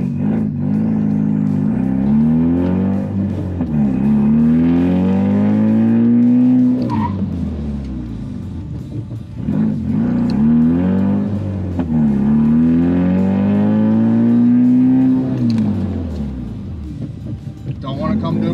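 A Ford Mustang repeatedly speeding up and slowing down during brake pad bedding stops from about 30 to 35 mph, engine pitch rising and falling in long sweeps, loud and close, with some tire noise and talk over it.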